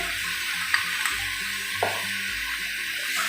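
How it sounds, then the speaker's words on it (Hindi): Potatoes frying in a pan for aloo bhujiya keep up a moderate, steady hiss, with a few light clicks and one brief swishing scrape of stirring partway through, and no talking. "2 मिनट तक मैंने इसको भूनना है, अच्छी तरह फ्राई किया है आलूओं को"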